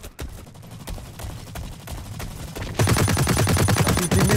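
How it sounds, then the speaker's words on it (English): Rapid machine gun fire in the video game Blacklight, scattered shots at first, then a dense, louder sustained burst of automatic fire near the end. "machine gun!"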